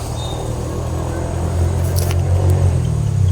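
A passing car rumbles close by in the open, its low engine drone swelling slightly toward the end of the few seconds, with no talk over it.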